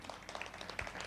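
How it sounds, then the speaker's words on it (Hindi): Applause from a seminar audience at Olive Restaurant in Jaipur: a brief, quiet patter of many hands clapping, fairly dense and even throughout. "एक बार फिर जोरदार तालियाँ"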